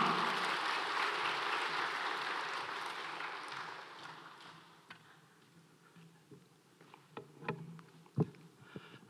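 Applause from a church congregation fades out gradually, leaving scattered clicks and small knocks in a quiet room.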